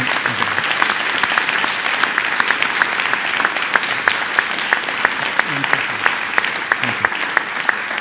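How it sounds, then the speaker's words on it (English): A lecture audience applauds steadily and loudly, dense sustained clapping filling the hall without a break, with a few voices faintly beneath it. "Let's give another round of applause."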